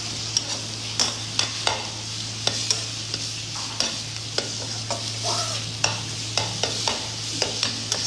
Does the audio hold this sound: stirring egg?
yes